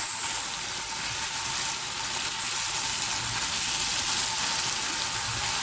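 Onion rings frying in a pan while being stirred, with a steady, close, even sizzle and hiss throughout and no talking.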